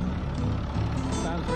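A Freightliner M2 truck on a test drive, its engine and road rumble a steady low drone heard from inside the cab with someone talking over it.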